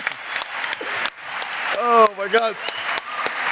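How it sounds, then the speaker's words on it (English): Studio audience applause breaks out in scattered bursts while people talk and exclaim loudly over it. "One more round of applause because this is what I'm talking about."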